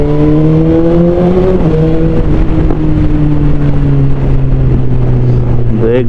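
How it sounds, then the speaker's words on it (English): A BMW S1000XR motorcycle's inline-four engine sounds loud and close through its Akrapovic full exhaust system, holding a steady drone as the pitch eases down and then rises again, mixed with heavy wind rush from riding. "The exhaust note is such a music to the ears."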